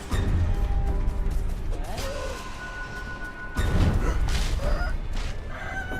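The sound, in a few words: rooster attacking in video game Sekiro: Shadows Die Twice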